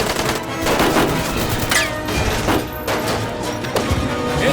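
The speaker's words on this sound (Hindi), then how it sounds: "ओए गोली चला रहे हैं ये लोग तो।" A burst of film gunfire during a vehicle chase and crash sequence, with rapid shots, smashing impacts and thuds layered over a loud dramatic soundtrack, recurring in irregular clusters throughout.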